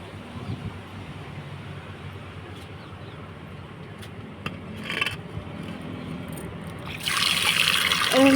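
Water runs and trickles into a vessel while rice is rinsed at home during evening cooking in a village. A steady low wash continues throughout, then turns into a louder, brighter splash near the end. Nobody speaks.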